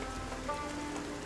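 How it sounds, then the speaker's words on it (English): Steady rain falling in the Project Zomboid video game, a continuous dense patter of raindrops on surfaces at an even level with no talk. "when it's raining outside"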